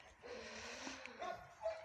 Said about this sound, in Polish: Szila szczekająca dziewczyna nasza